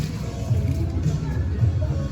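Low, steady murmur of a small midweek crowd waiting before a boxing show in Japan, an indistinct babble of voices heard from within the venue.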